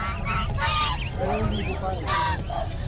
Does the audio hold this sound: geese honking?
yes